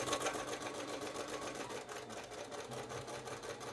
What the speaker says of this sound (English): So you just stitch right along that chalk line.